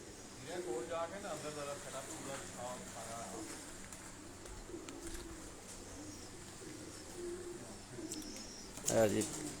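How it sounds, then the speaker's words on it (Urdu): Breeder pigeons cooing in their cages, soft repeated low coos in a quiet setting, with someone speaking over them and a brief louder rustle near the end. "سامنے جی بریڈر کبوتراں دے کیج نے جی."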